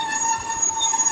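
Class 150 diesel train at Dawlish station on the Great Western main line, a steady, sustained rail noise with a high, ringing wheel squeal held throughout, moderately loud with no talking.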